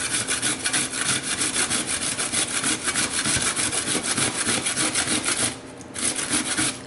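A peeled cucumber is rubbed against a kitchen grater in fast, steady back-and-forth rasping strokes that run almost without pause, close and fairly loud, with a brief break near the end.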